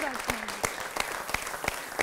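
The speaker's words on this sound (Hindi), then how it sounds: "एक बार जोरदार तालियां" An audience at a Hindi poetry gathering breaks into loud applause, dense continuous clapping with a few sharper claps standing out, a voice briefly audible at the start.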